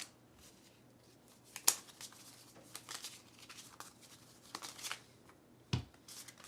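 Quiet riffling and soft flicks of playing cards being shuffled during a board game, with scattered sharp snaps and taps in a hushed room.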